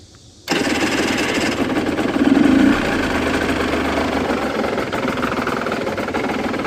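Aprilia RS125 two-stroke motorcycle engine catches and runs steadily after a short quiet start, a loud close buzzing idle with a brief rise in revs around the middle.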